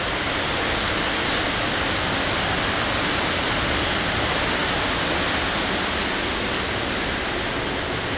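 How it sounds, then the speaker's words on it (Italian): A river rushes in a steady, loud, unbroken roar of broadband water noise near the bank, with no pauses and no voices. "il rumore dell'acqua può confondere, attenzione"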